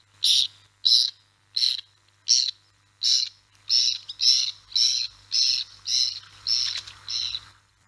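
A kingfisher on the hunt calls a dozen times in a clean, evenly spaced series of bright, piercing notes, close and loud against near silence.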